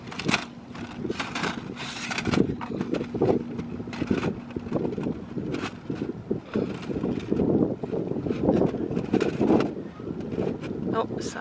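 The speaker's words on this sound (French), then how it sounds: "le vent est si fort que je ne peux même pas l'installer" Strong wind outdoors buffets the microphone in gusty, rumbling bursts, and a person talks throughout.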